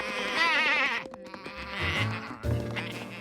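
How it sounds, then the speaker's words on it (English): Several sheep bleat loudly in overlapping, wavering cries, close by, with brief pauses between bursts. "George, could you get those sheep away from the tuba?"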